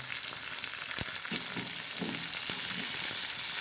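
Onion, curry leaves and tomato sizzle in hot oil for a tempering with ridge gourd, a steady bright frying hiss with a few sharp clicks and soft scraping stirs throughout.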